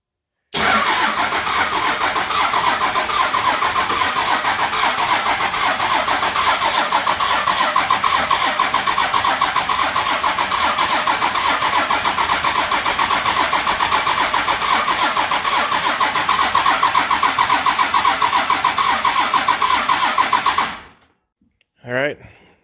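A 12V engine cranks and fires on its first start, giving a loud, continuous mechanical churn that runs steadily for about twenty seconds before cutting off abruptly.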